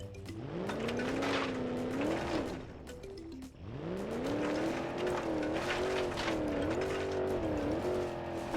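A Moonhawk car in BeamNG Drive on bigger tires driving offroad across a field, its engine revving and rising in pitch through gear changes, dropping briefly midway before climbing again, loud and close with faint tire noise.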